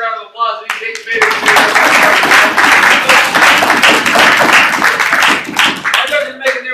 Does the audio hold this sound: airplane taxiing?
no